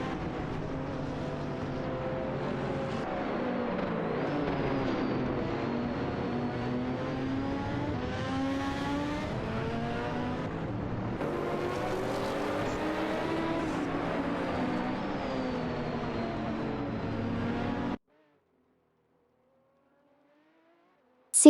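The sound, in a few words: race cars in a video game, Peugeot 908 and Audi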